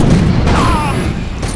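A loud explosive detonation in the shooter game Defiance, a heavy booming blast with rumbling debris and gunfire-like crackle that fills the moment and trails off over about a second and a half.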